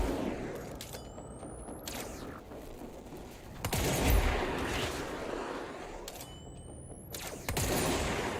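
Bursts of video game gunfire in a few loud volleys separated by quieter stretches, with bright tonal sweeps of in-game effects between them and no talking.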